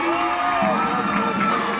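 A crowd cheers in a school gym with shouts, whoops and high voices layered into a dense, steady roar that stays loud and close throughout.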